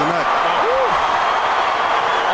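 A packed stadium crowd at the 2016 college football national championship, Clemson against Alabama, roars in a loud, unbroken wash of noise, with a voice briefly speaking over it at the start.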